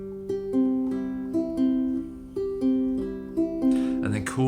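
A guitar lead line for a track, repeating a short plucked phrase in even bars, close and clear, with a brief burst of other sound at the very end.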